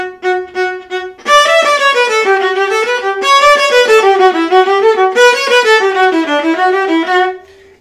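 A solo viola plays a passage from Bach's Brandenburg Concerto No. 3, phrases falling away in small decrescendos, bright and close with no talking.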